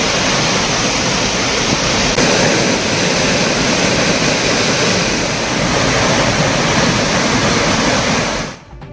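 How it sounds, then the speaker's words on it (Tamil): Floodwater roars over the Hogenakkal waterfalls, a loud, steady broadband rush that fills the whole clip without a break before cutting off abruptly at the end. "ஆனாலும் ஒகேனக்கல் அருவிகளில் வெள்ளம் ஆர்ப்பரிக்கிறது."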